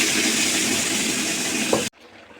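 Hot water, about half a cup, pours steadily into a pan of chicken butter masala. The rushing, splashing flow is loud and continuous for nearly two seconds, then cuts off sharply.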